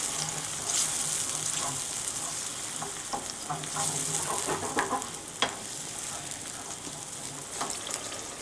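A sauce with hot red pepper flakes for salt cod is stirred in a pan, giving a constant bubbling sizzle with scattered spoon scrapes and light knocks.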